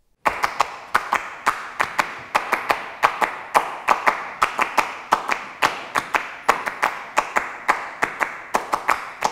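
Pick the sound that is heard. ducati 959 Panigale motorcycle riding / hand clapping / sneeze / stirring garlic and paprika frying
hand clapping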